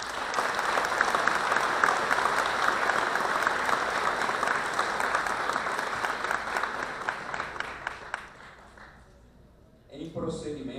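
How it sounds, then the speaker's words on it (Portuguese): Sustained applause fills a legislative hall during a ceremony awarding honorary citizenship and legislative merit medals, loud and dense for about eight seconds before fading out, followed by faint sounds near the end. "Recebam, portanto, os nossos aplausos."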